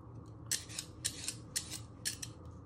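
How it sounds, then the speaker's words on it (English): A knife slicing through a small carrot on a cutting board gives a run of crisp, sharp cuts, about eight quick strokes in uneven rhythm over a quiet kitchen background, with no talking. "This is a little carrot, so you must hold it a certain way so you don't cut yourself."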